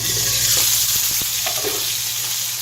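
Salmon frying skin-side down in a skillet, giving a steady, close hiss of sizzling with a few small pops and clicks, no voices over it.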